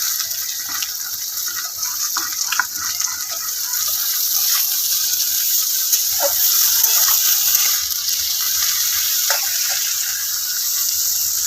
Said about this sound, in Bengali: প্রথমে আলুটা দিয়ে একটু ভেজে নিতে হবে